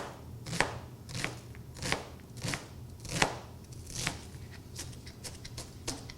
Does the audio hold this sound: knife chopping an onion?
yes